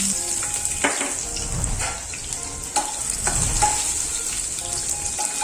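Garlic, ginger and spring onion sautéing in a pan for veg Manchurian, a close, steady sizzle broken by repeated spoon scrapes and stirring knocks against the pan, with no talk.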